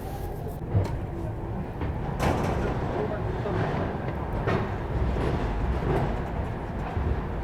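A train pulls into Shri Mata Vaishno Devi Katra railway station, arriving two hours late on the New Delhi to Srinagar route. A continuous low rumble carries occasional clanks and knocks, with indistinct voices in the background.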